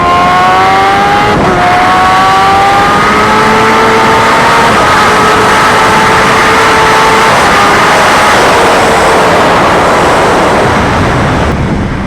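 A Kawasaki Ninja H2R's supercharged engine pulls hard toward redline, its rising whine climbing steadily for several seconds and then easing, all under constant loud wind roar with no talking.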